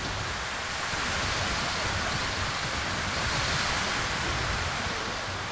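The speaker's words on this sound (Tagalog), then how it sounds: "Nakakatakot ang ulan na ito, ang lakas." Heavy rain pours steadily in Monster Hunter Rise, a dense, constant broadband hiss with no letup, fairly close and loud, heard alone without any voices.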